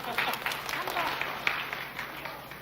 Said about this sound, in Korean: 말로 하지만 맞으면 박수 한번 쳐주세요